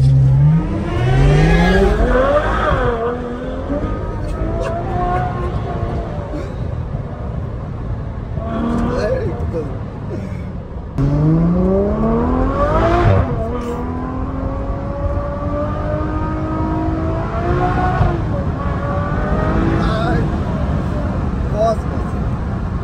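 A Ferrari 812 Superfast V12 accelerates hard through the gears, engine pitch climbing steeply then dropping at each quick upshift, loud and close from inside the car, with someone talking over the engine note.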